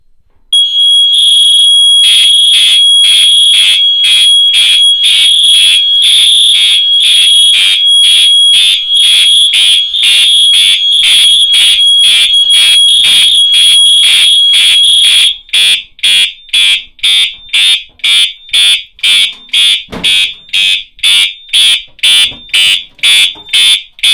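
A fire alarm system set off from a Grinnell T-bar pull station sounds a loud, piercing electronic tone, steady at first and then pulsing in rapid, evenly spaced beeps, close and alone.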